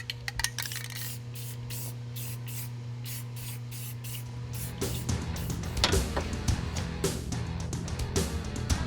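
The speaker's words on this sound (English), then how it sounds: "make sure to apply spray paint to inhibit rust" Bursts of aerosol spray paint hiss in short repeated blasts over a low hum as it is applied to welds to inhibit rust, followed by clattering and scraping handling noises.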